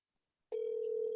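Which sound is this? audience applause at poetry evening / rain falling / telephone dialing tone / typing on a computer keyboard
telephone dialing tone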